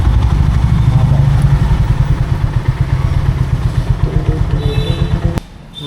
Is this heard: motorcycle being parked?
yes